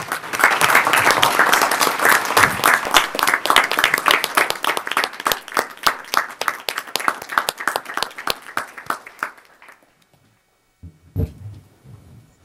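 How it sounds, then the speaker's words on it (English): A room at a board meeting breaks into applause for volunteers and supporters, a dense burst of clapping that thins to a few scattered claps and dies out after about nine seconds, followed by a brief shuffle. "Please give them a hearty round of applause."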